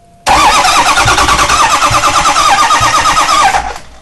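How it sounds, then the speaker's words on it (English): A Ford 6.0L diesel engine cranks over loudly at close range, its starter whirring in a steady rapid pulse for about three seconds before cutting off. "It'll crank the engine."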